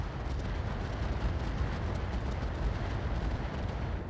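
Heavy weapons fire from a mech in BattleTech Roguetech, a dense, rumbling roar of explosive blasts that runs steadily for several seconds without a break and with no talk.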